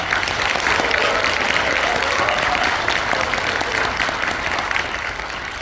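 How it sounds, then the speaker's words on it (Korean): Sustained, dense applause from a large audience at a graduation ceremony, steady and loud throughout without pause. "큰 박수 부탁을 드립니다"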